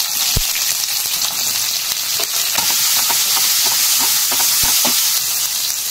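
Mustard seeds, urad dal and onion frying in hot oil for a South Indian tempering, a steady loud sizzle with scattered sharp pops and crackles throughout, no voices.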